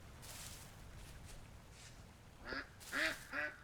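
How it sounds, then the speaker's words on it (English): Ducks in the game Vintage Story give three quick nasal quacks near the end, fairly loud and close over a quiet ambient background with no talk. "Oh god, ducks! Ducks."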